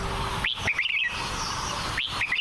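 A red-whiskered bulbul gives two bright, warbling call phrases about a second and a half apart, each a quick rising note followed by rapid chirps, clear against a constant background hum.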